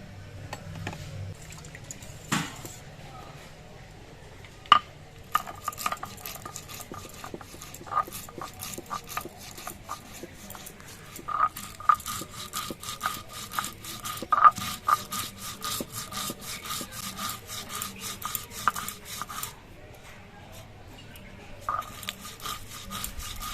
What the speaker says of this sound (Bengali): এই সর্ষেটা এখন আমি বেটে নিচ্ছি সর্ষেটা বাটার সময় এর মধ্যে দুটো কাঁচা লঙ্কা আর অল্প একটু নুন নিয়ে নিচ্ছি